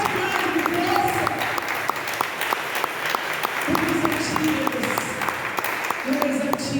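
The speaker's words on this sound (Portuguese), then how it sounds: "Aplaude o Senhor, aplaude maravilhosa." Church congregation clapping steadily throughout, a dense continuous patter of many hands with a preacher's voice and sung or spoken phrases rising over it.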